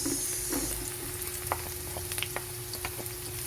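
Garlic and onion being stir-fried in a pan for a chicken and mushroom dish, with a steady close sizzle and light scraping and clinking of a utensil stirring.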